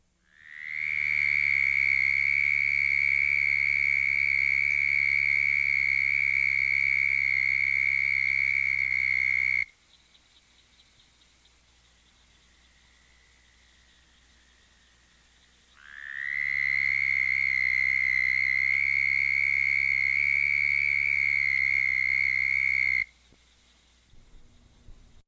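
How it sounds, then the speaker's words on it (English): Southern toads (Bufo terrestris) give two long, loud, high-pitched steady trills, each lasting several seconds, separated by a quiet gap. "to produce a high-pitched trill of the southern toad,"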